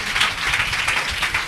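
A church congregation claps together in steady, dense applause that fills the hall evenly and continues without a break.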